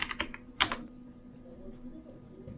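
A computer keyboard clatters with several quick key taps in a short burst, then a pause and a single later tap, close and fairly faint.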